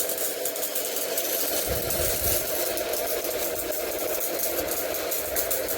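Steady rattling drone of a tractor's diesel engine running nearby, with a rhythmic mechanical chatter and a couple of heavier thumps.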